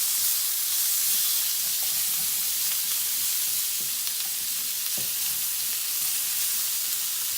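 Garlic sizzles in hot oil in a pan, a steady bright hiss with faint crackles and occasional stirring scrapes, close and continuous with no talking.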